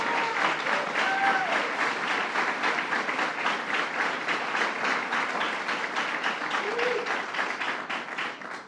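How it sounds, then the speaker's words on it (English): A crowd claps steadily and warmly at a bill-signing ceremony in Kingston, dense applause holding for several seconds before tapering off slightly at the end. "Let's give Lisa a round of applause."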